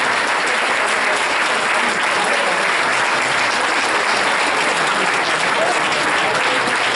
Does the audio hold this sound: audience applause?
yes